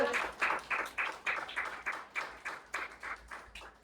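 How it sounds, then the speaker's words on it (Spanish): Congregation at an evening church service applauding, a steady run of rhythmic claps that rise and fall in even pulses, moderately distant and fairly soft. "Pueden un aplauso al Señor en esta noche."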